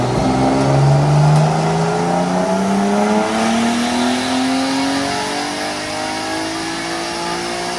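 A turbocharged car on a dyno makes a pull at about 15 pounds of boost, its engine roaring loudly as the pitch climbs steadily through the rev range, a sustained close-up wail with no talking.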